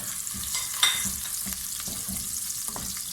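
Chopped onion hits hot mustard oil over a medium flame, a bright close sizzle with a sharp spatter early on, then steady frying and soft stirring scrapes.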